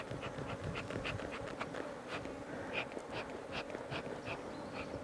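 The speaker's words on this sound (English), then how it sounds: "The good thing is the bees are now docile." Honey bees buzz steadily during a honey harvest in Uganda's Karamoja region, a dense close swarm drone with individual bees flicking past the hive.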